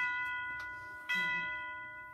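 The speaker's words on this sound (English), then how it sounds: "Bells will be ringing." Church bells ring with steady sustained tones that overlap and linger, a fresh strike landing about halfway through, fairly loud with no voices.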